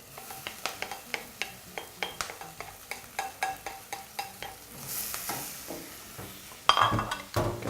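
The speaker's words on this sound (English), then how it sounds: "we're just going to finish off by adding our kale" Leafy kale tumbles into a pot of pre-cooked matoke, setting off a steady run of sharp stirring scrapes and a soft sizzle, close and moderately loud, with a brief louder hiss partway through.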